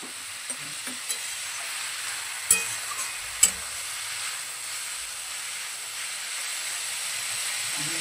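Vegetables for pasta fry under a lid in a pan, a steady close sizzle and hiss that carries on evenly, with a few soft clicks and knocks.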